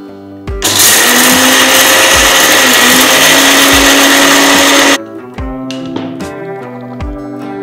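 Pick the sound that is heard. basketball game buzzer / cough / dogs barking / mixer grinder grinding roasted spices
mixer grinder grinding roasted spices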